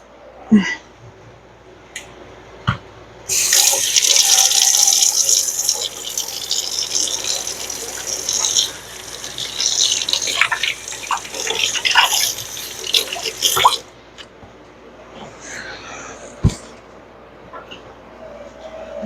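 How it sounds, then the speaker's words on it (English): Water runs from a kitchen tap while hands are washed during salad preparation, a steady close gush that begins suddenly, fluctuates with splashing as the hands move, then shuts off, leaving quiet room sounds. "Now, wash my hands again."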